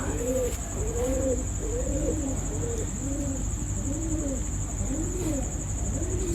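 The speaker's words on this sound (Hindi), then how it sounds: "ये कबूतर हैं वो।" Pigeons coo in repeated soft, rolling calls over a steady background hum, with a high insect-like whine running throughout.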